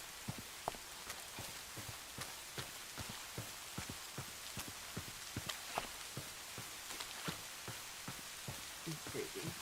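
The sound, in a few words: rain falling in Minecraft video game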